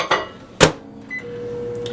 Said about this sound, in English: I'm going to stick that in the microwave real quick and melt it.